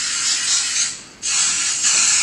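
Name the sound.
Glade air freshener sprayed onto a cinder block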